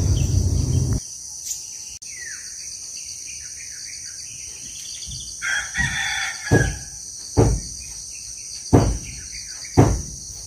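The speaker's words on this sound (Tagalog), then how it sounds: "Tunog ng ibon guys." At a quiet house in the mountains, a rooster crows in the distance amid a constant high insect drone, followed by several short bird calls spaced a second or so apart.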